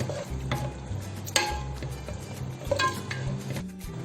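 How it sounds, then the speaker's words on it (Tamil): A spoon stirs samba rava pongal mixture of milk, water and salt in a pot, giving scraping clinks and soft sizzling close by, with a few sharper knocks against the metal and no speech. "கிண்டி விடுங்க."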